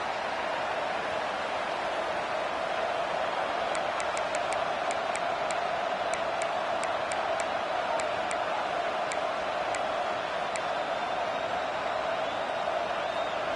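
A steady, dense stadium crowd roar fills a college football video game matchup against Tennessee, holding an even level throughout, with a scatter of faint, sharp ticks in the middle stretch.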